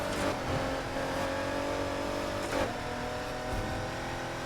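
A Ford GT at full tune races in Need for Speed Heat, its engine a steady high-revving drone with brief swells as it shifts, loud and close throughout with no talking.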